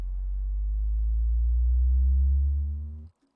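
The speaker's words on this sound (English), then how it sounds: "I have the sub rise here in the buildup." A deep, clean sub-bass synth tone swells and rises steadily in pitch through an electronic track buildup, growing louder for about three seconds before cutting off abruptly.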